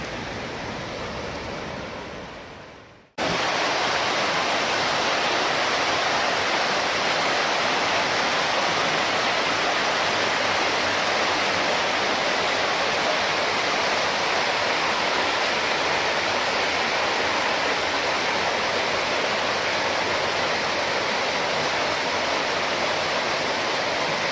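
A quiet rush gives way abruptly to a loud, steady roar of falling water, continuous and close, with no voices.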